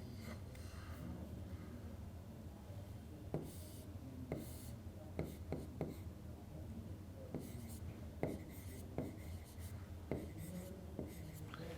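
Pen or chalk writing out a dihybrid cross in a genetics lesson, a series of short scratchy strokes and taps in irregular bursts over a quiet room.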